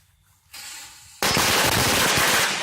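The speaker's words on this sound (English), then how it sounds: "I like a fast lighting firecracker, unlike the black cats I had a few weeks ago." A 50-count firecracker string from Cutting Edge Fireworks goes off: after a quiet fuse hiss, a loud, rapid, continuous crackling burst of pops rattles on close by, like machine-gun fire, with no talking.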